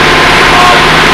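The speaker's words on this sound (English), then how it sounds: "I apologize for the noise. The air compressors are kind of loud." Loud, steady mechanical drone of air compressors running continuously in a workshop, a dense broadband roar with a low hum underneath, filling the whole moment.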